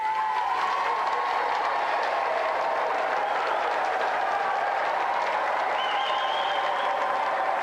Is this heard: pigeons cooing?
no